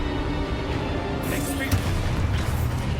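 A Confringo fire-blast spell bursts in the Hogwarts Legacy video game, a single booming impact near the middle over a dense rumbling battle bed, with a voice present.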